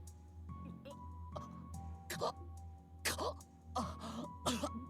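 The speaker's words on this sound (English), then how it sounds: "Did Lloyd just cough up blood?" Several harsh, rasping coughs in short bursts, growing heavier toward the end, over a steady low hum and faint tones of game audio from The Legend of Heroes: Trails to Azure.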